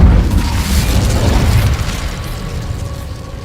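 Incendio fire spell cast in Hogwarts Legacy: a loud, deep whooshing boom that swells at once and rumbles briefly before fading, with no talk.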